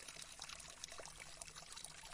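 River water trickles and splashes over stones, a faint, continuous babble of bright droplets with no voices over it.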